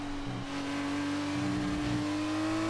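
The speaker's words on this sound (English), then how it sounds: "I love the way the gears sound when you gear up and gear down." A Formula 2 car engine whines steadily at high revs in F1 2019, a loud sustained drone with brief stepped changes in pitch as gears shift, with no talking.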